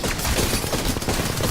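Dense, continuous gunfire from an Apex Legends match, rapid overlapping shots filling the short stretch at a loud, steady level with no speech.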